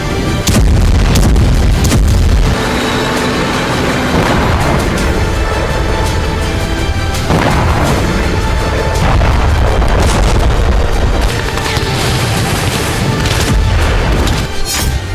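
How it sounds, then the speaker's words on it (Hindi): Russian artillery strikes hitting Volodar, with heavy booms and blasts of gunfire recurring loudly and continuously through a dense, chaotic din. "वोलोदर रूसी फौज की आर्टिलरी प्रहार से जल रहा है"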